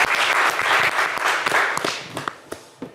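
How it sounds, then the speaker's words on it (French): Studio audience on a French TV game show breaks into loud, dense applause that holds strongly, then thins into scattered individual claps near the end. "on va vous applaudir quand même très très fort"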